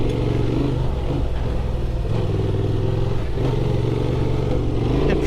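A 2024 Honda Transalp XL 750 rides through desert sand, its engine droning steadily with shifting revs under constant wind and rattle, loud and close throughout.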